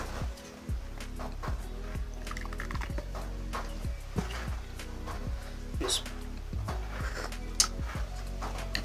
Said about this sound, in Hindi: अब मैं इस छोटी प्याले में फिंजान में डाल के पीऊंगा खजूर के साथ